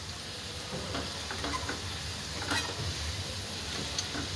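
Potato finger chips fry in oil with a soft, continuous sizzle and crackle, punctuated by faint scraping stirs, fairly quiet and close.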